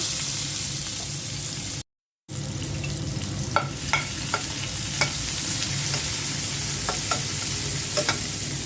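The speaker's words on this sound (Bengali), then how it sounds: "পেঁয়াজের বেরেস্তা করে নিচ্ছি।" Sliced onions sizzle in hot oil in a pan after fish frying, a steady hiss broken by several sharp clicks of stirring and scraping, with a brief cut to silence early on.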